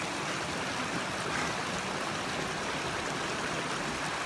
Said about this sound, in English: This is this water coming down must make its way eventually to the Pacific.